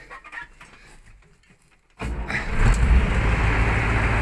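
A wheeled T-150 tractor's V8 engine starts suddenly after a quiet moment with faint farmyard sounds, then runs loud and close with a steady, rough roar.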